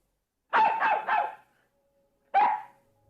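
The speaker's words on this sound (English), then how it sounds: "In the garden, Nana looks at the sky and barks." A dog barks outdoors in a garden: a quick run of three close, loud barks, a pause of about a second, then one more bark, with silence around them.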